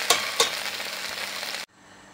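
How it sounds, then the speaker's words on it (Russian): Eggplant frying in a pan in small batches, a dense close hiss of sizzling oil with a couple of sharp pops near the start, cutting off abruptly to quiet. "Решила я обжаривать маленькими партиями."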